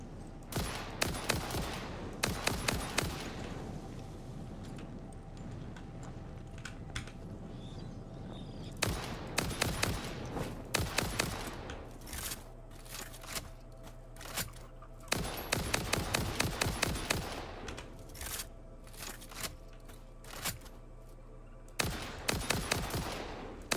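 Repeated bursts of video game gunfire during a firefight, rapid volleys and single cracks recurring in clusters across the span, loud and close with quieter gaps between.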